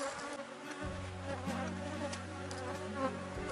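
A bee buzzes close to the camera while hovering at an apiary hive, a steady droning hum that holds nearly unbroken for a few seconds with faint background insect noise.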